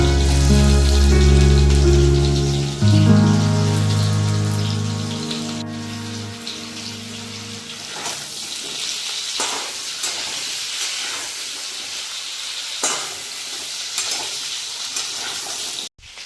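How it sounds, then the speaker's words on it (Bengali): Potatoes frying in hot oil after cauliflower for a Bengali cauliflower and katla fish dish, a loud continuous sizzle and crackle close by that settles into a steady hiss, with a tonal hum at the start. "ফুলকপি ভাজা হলে আলুগুলোকে এবার ভেজে নেব।"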